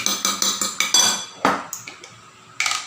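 A fork beats egg in a bowl, a run of quick rhythmic clinks and taps, then a pause and a few scattered knocks before another burst of rapid clinking.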